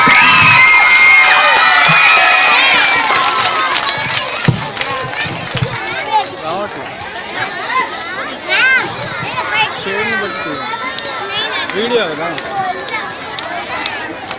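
Students at a high school Teachers' Day event cheer and shout loudly as a crowd, the noise swelling at first and then breaking into scattered excited children's voices.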